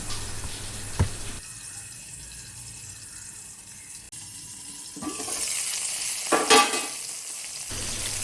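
Brinjal for a roast sizzles and hisses in a pan. A lid clatters on and off, muffling the frying to a dull steady hiss before it rises again in a brighter burst, and a water-like rush comes through briefly.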